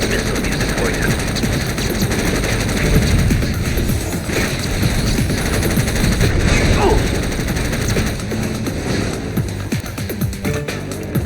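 Gunfire in the combat racing game Jak X: Combat Racing, a dense, continuous barrage of machine-gun fire that stays loud throughout and is layered with engine roar and other game noise.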